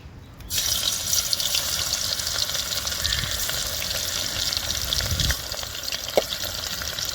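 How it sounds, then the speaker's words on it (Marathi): Crushed garlic cloves drop into hot oil in a pot and fry with a loud, steady hissing sizzle that begins abruptly and keeps going, with faint stirring knocks underneath, close and continuous. "तेल गरम झाले तर इथं मी दहा बारा लसणाच्या पाकळ्या ठेचून घेतल्यात त्या घालते मी तेलात"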